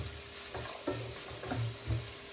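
Spices sautéing in a pan with turmeric powder, stirred with a few scraping strokes over a soft steady sizzle, fairly quiet and close.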